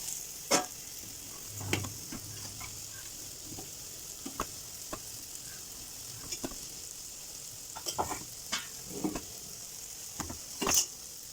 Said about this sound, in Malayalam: ഇനി തോരൻ തുറന്നിട്ട് ഇളക്കിയിട്ട് അതിലേക്ക് അരപ്പ് ഇട്ട് കൊടുക്കാം